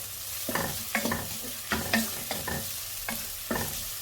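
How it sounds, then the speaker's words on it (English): Grated garlic frying in a pan is stirred with a spatula, giving a steady run of about eight scraping strokes over a constant sizzle, close and fairly loud. "Now just give that a nice mix."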